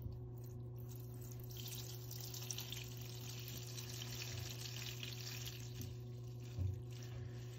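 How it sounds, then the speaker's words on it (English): Water gently poured into a bath of one gallon of plain water for cleaning Golden Age comic books, a steady soft trickle and wash with a brief louder splash near the end. "So I'm going to gently pour the water in."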